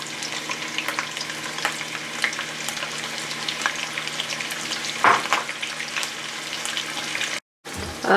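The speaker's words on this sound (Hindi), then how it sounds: "जैसे ही हमारा ऑयल जो है वो हीटअप हो जाएगा तो हम अपनी स्लाइस की हुई जो प्याज है वो ऐड कर देंगे" Sliced onions crackle in hot oil for haleem korma: a dense, even sizzle held close and fairly loud, with a sharp spit near the middle and a moment of silence just before the end.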